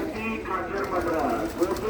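Pigeons coo softly from a Punjabi pigeon keeper's birds at Mahmoodpur, a low, rolling murmur running steadily beneath someone talking close by.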